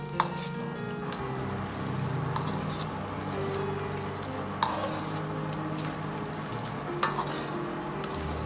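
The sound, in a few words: diced pork frying in oil, pushed apart with a ladle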